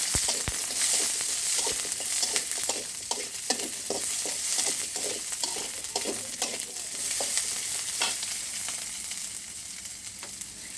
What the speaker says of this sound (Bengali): এর মধ্যে আমি এই পেঁয়াজটাও হালকা একটু তেলে নেব। দিয়ে দিলাম পেঁয়াজগুলো।